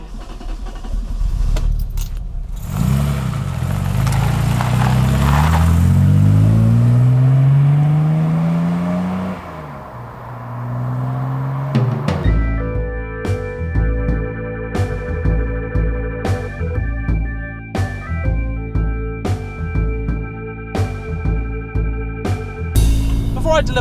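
Classic Aston Martin DB6 on the move. The engine sweeps up through a long, loud rev, dips, then settles into a steady, throbbing drive punctuated by rhythmic clicks and knocks, with no talking over it.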